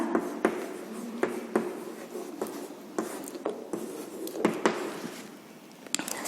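Pen or chalk writing word meanings during a Hindi lesson, a series of close scratchy strokes and taps at an irregular rhythm over a dull room hum, with no voices.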